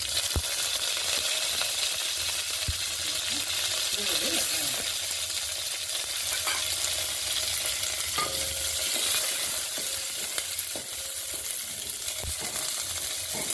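Cumin seeds and curry leaves temper in hot oil for okra sambar, making a continuous hissing sizzle with small pops and stirring clinks, close and steady throughout.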